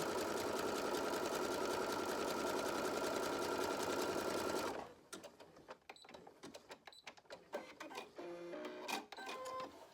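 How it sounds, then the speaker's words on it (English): A sewing machine runs a zigzag stitch on cotton fabric, first a loud steady whirring hum for several seconds, then it stops and gives way to irregular clicks and rattles of the machine being handled. "I like to just throw it in my machine, turn on my zigzag stitch, and just give a quick little zigzag."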